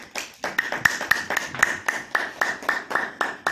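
Scattered, sparse hand clapping from a small audience at a chamber of commerce gathering, a dozen or so uneven claps spread over a few seconds, moderately close with no talking over it.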